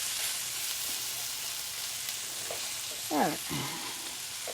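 Curry frying in a pot, a steady close sizzle with faint stirring scrapes, while a person briefly speaks over it.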